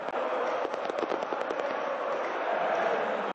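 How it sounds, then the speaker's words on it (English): Fireworks going off at a football stadium: a dense, continuous crackle of bursts heard at a distance over a broad crowd-like wash. "At the moment, fireworks have started early."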